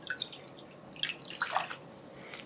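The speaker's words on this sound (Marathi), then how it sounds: "त्यामध्ये आणखी अर्धा कप पाणी घालते." Half a cup of water poured into a semolina and yogurt batter for rava appe, a brief soft splash and trickle heard close and fairly quiet, with a few faint drips.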